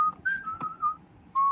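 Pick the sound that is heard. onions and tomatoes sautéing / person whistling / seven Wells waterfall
person whistling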